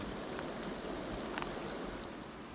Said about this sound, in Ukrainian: Вже пустився дощ і не перестає.